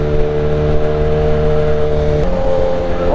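A loud, close BMW S1000RR motorcycle with a loud aftermarket exhaust can holds a deep, rumbling idle, then shifts pitch as the throttle changes, with a steady throaty roar throughout.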